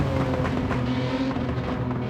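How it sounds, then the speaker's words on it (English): A Nissan Skyline R33 race car engine in Gran Turismo 7 rumbles steadily with a constant low growl and crackly exhaust burbles, continuous and close, with no one speaking. "nice burbles there from the R33"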